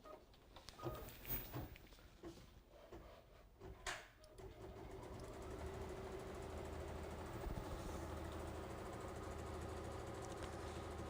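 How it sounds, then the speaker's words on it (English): A sewing machine stitches the top section of a fabric crossbody bag, its steady mechanical whir running continuously through the second half after a few brief starts and handling noises. "we're going to return this to the machine, and we're going to stitch the top section on."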